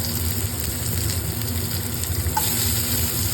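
Chopped onions fry in oil with curry leaves for a tomato curry, giving a continuous, even sizzle that holds steady at moderate loudness with no talking.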